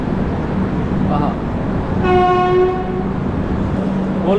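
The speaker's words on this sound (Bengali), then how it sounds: "যখনই প্ল্যাটফর্মে ট্রেনটা ঢুকলো" The 12837 Howrah Puri Superfast Express pulls into a platform with a steady rumble of rolling carriages and a clear horn blast midway, while people talk nearby.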